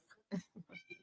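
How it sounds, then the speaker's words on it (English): A pet cat meows several times in quick succession indoors, the cries fairly close and distinct, with a trailing drawn-out call at the end. "If you hear that in the background, that's my cat"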